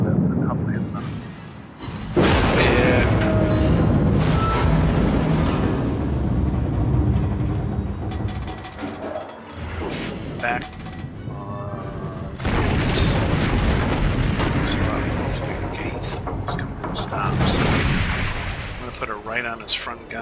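Wyoming battleship main guns fire in World of Warships, heavy booming salvos rolling through a loud, dense soundscape, with someone talking over the action.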